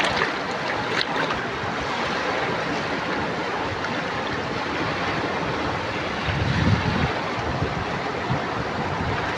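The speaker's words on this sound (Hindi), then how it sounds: "कितना पानी आ रहा है, देख रहे हो छलांगे मार रहा है पानी।" Floodwater rushes and surges in a dense, continuous roar, loud and close with wind buffeting the microphone and a brief heavier surge near the end, no talk over it.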